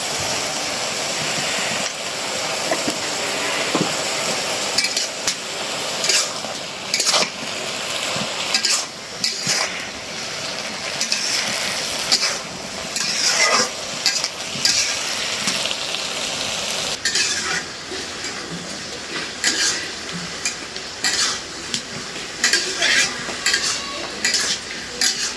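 Food sizzles in oil in a pan while it is stirred, with steady frying hiss broken by frequent scraping and clinking of a utensil against the pan throughout.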